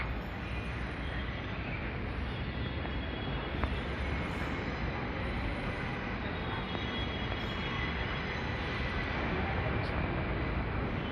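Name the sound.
metro train arriving at station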